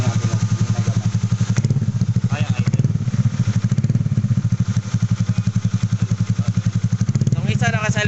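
A Honda Click 150i scooter fitted with a Kawahara Racing power pipe and silencer idles close by with a fast, even thumping exhaust pulse, punctuated by a couple of short throttle blips.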